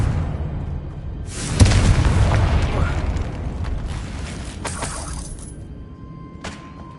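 A Confringo blasting spell in Hogwarts Legacy goes off with a loud boom and a crackling burst that fades over a couple of seconds, followed by a few smaller pops.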